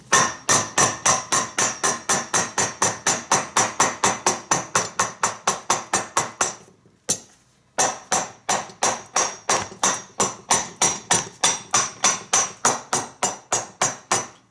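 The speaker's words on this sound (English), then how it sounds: "to hammer on it" Steady hammer blows strike a contact-cemented shoe sole resting on a stand, a fast even rhythm of sharp close taps with one brief pause midway, no talking.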